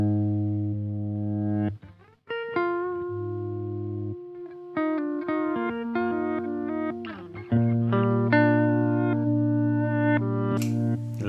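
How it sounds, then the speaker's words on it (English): An electric guitar runs through a Mood pedal set as a reverse delay on an ambient post-rock pedalboard. Sustained chords and notes swell in layered, effected tones, moderately loud and heard alone without talk. "use Mood as a reverse delay effect, which sounds like the following"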